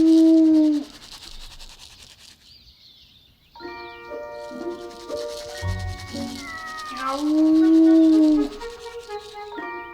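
Stray cats meow repeatedly in a drawn-out, wavering series, loud and close, with brief quieter gaps between the calls.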